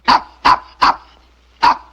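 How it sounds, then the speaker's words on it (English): Toto, a small dog, gives four sharp, close barks: three in quick even succession, then a short pause before the fourth. "Stop barking at Mama"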